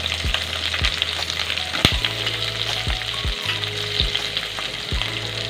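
Sliced onions and cumin sizzle in hot oil in a pan, a bright continuous frying hiss punctuated by several sharp knocks of a spoon stirring against the vessel.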